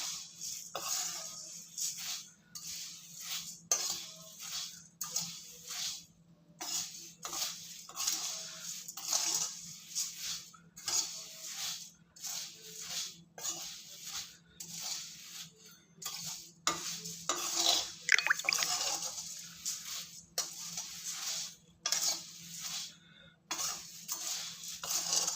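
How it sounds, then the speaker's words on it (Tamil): Ingredients are roasted on a low flame in a pan for karthigai appam and stirred steadily, giving repeated scraping strokes of a spoon against metal over a faint sizzle, close up and with no voices. "சிம்மில் வச்சே வறுத்துக்கோங்க"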